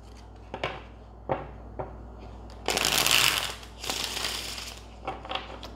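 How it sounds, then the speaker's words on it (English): Tarot cards being shuffled by hand: several quick papery riffles and flutters in separate bursts, the longest and loudest in the middle, with no talking. "Let's get one more shuffle."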